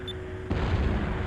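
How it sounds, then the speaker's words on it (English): A sudden explosion goes off beside an airship's port bow in the video game Skies of Arcadia Legends, a single loud boom at mid-clip that leaves a rumbling roar behind it. "There was an explosion off the port bow."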